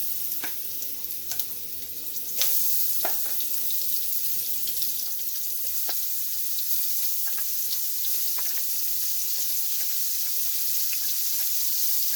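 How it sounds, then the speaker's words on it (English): Shrimp sear in an extremely hot skillet with a continuous bright sizzle and scattered pops and spatters, a sharp surge of hiss near the start and then a steady crackle for several seconds. "the skillet is supposed to be extremely hot, and we're going to cook it on both sides for maybe 1 minute, 2 minutes"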